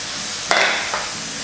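Grated onion and green chilli dropped into rice frying in a pan, a loud sizzling burst followed by a second shorter hiss and a steady low frying bed, no voices.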